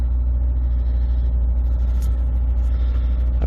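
A Honda S2000 AP1 engine runs in a garage at a steady, slightly high idle, a loud, close, even hum with a strong low drone and faint clicks on top.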